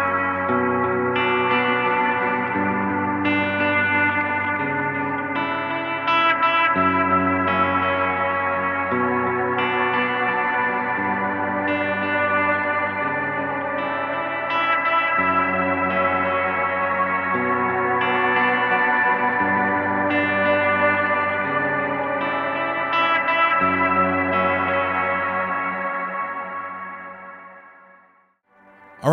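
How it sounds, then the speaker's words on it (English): Ambient guitar loop from a Blooper looper fed into a Timeline delay with shimmer reverb, a dense sustained wash of layered tones with pitched upper harmonics, steady and loud throughout, fading out at the very end. "I'm going to turn it on and then feed in the shimmer so you can hear it."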